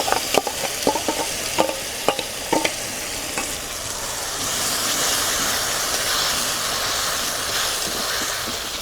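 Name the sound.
ridge gourd paste frying and being stirred in pan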